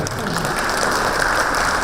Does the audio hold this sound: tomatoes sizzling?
no